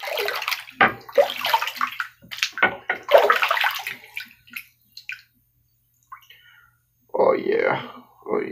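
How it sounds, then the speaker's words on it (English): Water runs into a sink while sharpening stones are rinsed, a broad splashing rush under nearby talk that stops and then returns in a strong burst near the end. "Rinse that off. Rinse this over here."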